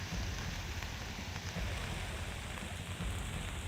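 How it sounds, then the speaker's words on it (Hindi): Heavy, continuous monsoon rain pours down in Chamoli, a dense steady hiss of water on surfaces that stays loud and unbroken throughout. "जहां पर पिछले 48 घंटों से लगातार बारिश हो रही है"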